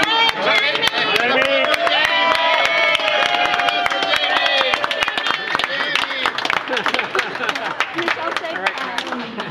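Audience at a Marrakech Treaty signing celebration for blind and print-disabled people breaks into steady, dense clapping and cheering that fills the room, with voices chattering over it throughout.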